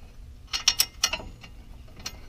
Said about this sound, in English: you run them back, thread them back into the caliper here.